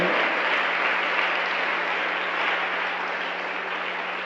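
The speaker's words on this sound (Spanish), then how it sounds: "Hay un aplauso para el Señor en esta hora." A church congregation applauds in a dense, even wash of clapping that holds steady and close for the whole stretch, with a low constant hum underneath.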